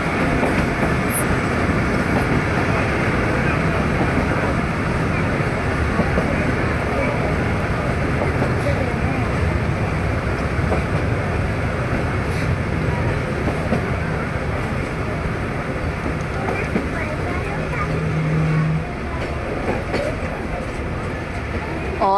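Attock Safari Train on its run from Rawalpindi toward Attock Khurd gives off continuous rail rumble with a steady clickety-clack of wheels, loud and close throughout, and a brief squeal near the end.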